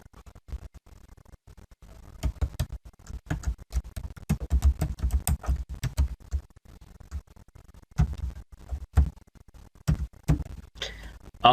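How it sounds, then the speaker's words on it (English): An email address is typed on a computer keyboard: quick irregular bursts of key clicks, close and fairly quiet, with short pauses between runs. "Then I'll type my email."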